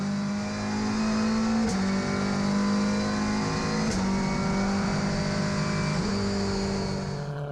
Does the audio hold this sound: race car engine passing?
yes